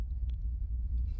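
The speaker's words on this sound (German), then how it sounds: "Ich höre schon das Geräusch. Hört es auch? Wie so ein Donnergrollen." Low, thunder-like rumble in the video game Astroworld, a deep continuous growl with a couple of faint higher ticks over it.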